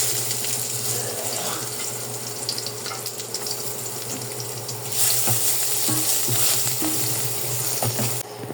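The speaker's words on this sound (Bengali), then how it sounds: "পাঁচফোড়নটা একটু ভালো মতো একটু বাদামি কালার করে নেব। আর দিয়ে দেবো রসুন।" Panch phoron and garlic frying in oil in a home kitchen, a dense, continuous close sizzle that swells louder partway through, with faint scraping of a stirring spoon and no talking.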